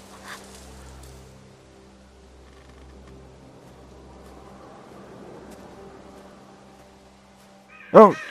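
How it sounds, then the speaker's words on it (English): Birds in The Walking Dead video game give one sudden, loud, harsh squawk near the end. Before it there is a long stretch of quiet ambient game hum. "God, birds."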